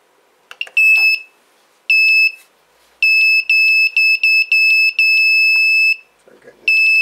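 Beeper on a Smart Controller LCD 12864 board plays a tune as a string of loud, piercing electronic tones in short rhythmic bursts, with brief gaps, a few clicks and handling noise between phrases.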